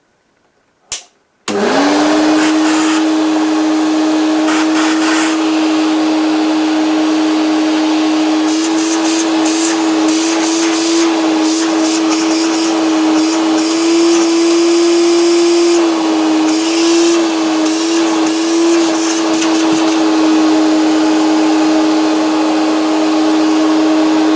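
A Hoover S1015 Portapower vacuum cleaner, new in its box, starts after a click and then runs with a loud, steady motor whine and airy roar that holds almost unchanged to the end.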